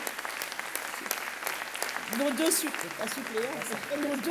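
Sustained crowd applause at a 2015 French departmental election event, a dense wash of clapping from many hands, with voices calling out and cheering over it.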